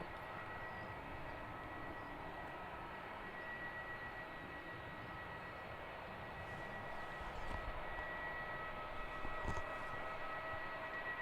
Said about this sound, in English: Still hear the brake fans going off on the Jetstar that landed just before.